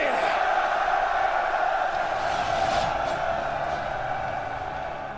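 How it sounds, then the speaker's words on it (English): Massed soldiers' battle cry from the game Rome: Total War, a broad roaring cheer of many voices that holds steady and fades slightly toward the end, with no single clear shout standing out. "That just sounded like more like a general cheer than saying death and glory"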